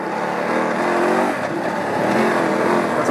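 A BMW F 850GS Adventure motorcycle rides off-road over bumpy ground. Its engine drones steadily and loudly, mixed with wind rush and rumbling from the terrain, without a break.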